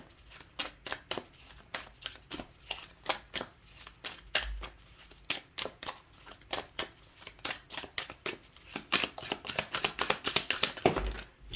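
Tarot cards being shuffled close by, a quick rhythmic series of crisp riffles and slaps that grows denser and louder toward the end, with no talking.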